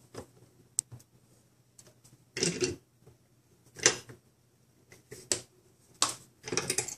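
Steel vise slowly closing to press a drive pin into a Kyosho R/C car axle, giving a few sharp, isolated clicks and creaks spaced over several seconds against a quiet workbench background.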